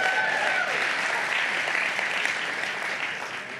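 A church congregation claps together in sustained, even applause that fills the room, loud and steady throughout before easing slightly at the end.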